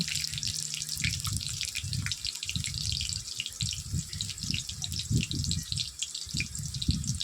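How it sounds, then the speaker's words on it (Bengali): Water runs into a sink and splashes irregularly as chicken meat is rinsed and handled beneath the stream. "মাংসটা বা পোলট্রির মাংসকে ভালো করে ধুয়ে"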